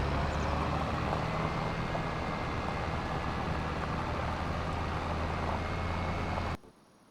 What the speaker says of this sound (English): So I'm going to keep that tractor going.